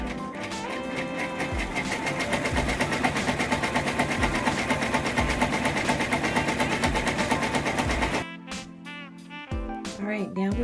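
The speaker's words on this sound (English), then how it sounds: "Now the satin stitch is going to go ahead and stitch down." An embroidery machine stitches down a satin stitch applique on a reversible pocket, giving a steady, fast mechanical whir with rapid needle ticks for about eight seconds before it slows into intermittent clicks.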